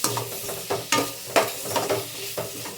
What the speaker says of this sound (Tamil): போன்லெஸ் சிக்கனை சேர்த்து நல்லா இதில் வதக்கி விட்டுடலாம்.